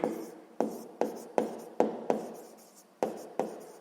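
Pen strokes write an answer on paper in a sixth-grade math exercise, nine crisp scratchy bursts in an uneven rhythm, close and alone.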